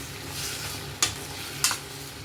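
Star anise, cinnamon sticks and cloves sautéed in a pan for hotel-style paneer butter masala, giving a soft steady sizzle with two brief sharp scraping stir strokes, close and fairly quiet, no talking.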